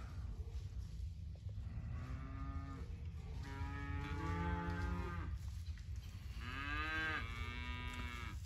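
Several cattle moo repeatedly near a pasture gate, long drawn-out calls rising and falling one after another over a steady low background rumble, with no talking.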